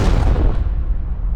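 A single loud, booming gunshot in a superhero game scene with the villain Carnage, heard close and heavy, with a deep rumble that fills the brief moment.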